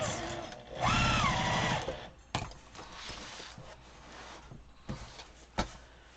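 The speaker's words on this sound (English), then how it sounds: "So I'm sewing my lining part right" A sewing machine stitches a fabric briefcase lining in a short loud whirring run lasting about a second, then stops, followed by quieter handling clicks and thumps of the machine and fabric.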